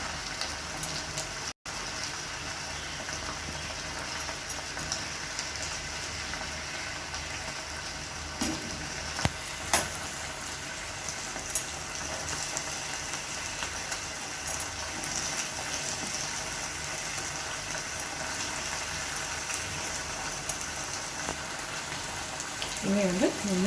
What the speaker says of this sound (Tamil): பாருங்கள், நம்ம மசாலாலாம் எப்படி ட்ரை ஆகி நல்லா சிக்கன் முறுமுறுன்னு வெந்துட்டுருக்குன்னு